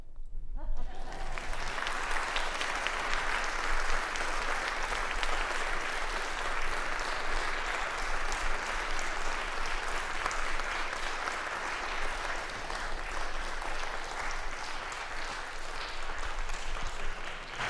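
A church audience at First Baptist applauds steadily and loudly for the whole stretch, a dense sustained wash of many hands clapping with no voices standing out.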